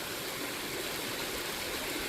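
A creek at Linn Run State Park in Rector, PA rushes and burbles over rocks close by, a continuous broadband wash of flowing water with no speech.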